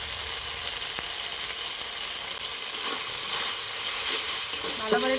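Ground spices and turmeric frying in oil for khichuri, a steady close sizzle with occasional stirring scrapes, no voices over it.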